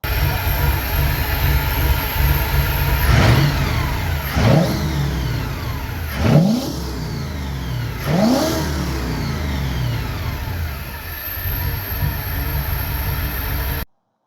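A V8 engine swapped into a Toyota Surf idles with a steady low rumble, then revs up sharply four times in succession, each blip rising and falling back to idle, loud and close with no talking.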